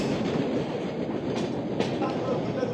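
A passenger express train between Jalpaiguri Road and Sealdah rolls steadily on its rails near Kishanganj Junction, giving a loud, continuous rumble with faint clickety-clack and a couple of brief higher hisses, heard from inside the coach.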